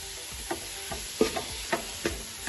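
A stirring spoon scrapes through chopped ingredients and plenty of curry leaves frying in a pan for chicken curry, giving several distinct scrapes over a low, steady sizzle, close up and without talk.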